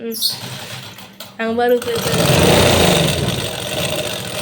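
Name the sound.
sewing machine running on its electric motor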